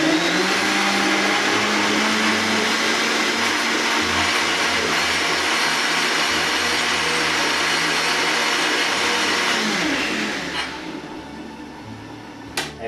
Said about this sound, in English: So I gradually come up to the full speed of the blender.